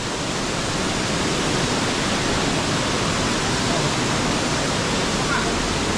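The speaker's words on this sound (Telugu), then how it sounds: "కానీ వాటర్ ఫాల్ మాత్రం బాగుంది" Steady, loud roar of Elephant Falls in Shillong, Meghalaya, a dense unbroken rush of falling water that fills the whole scene from start to finish with no pauses.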